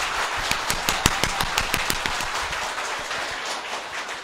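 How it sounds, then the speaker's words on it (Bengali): An audience at a talk claps loudly in a quick, steady rhythm, each sharp clap standing out over a constant wash of room noise. "এবার জোরে হাততালি।"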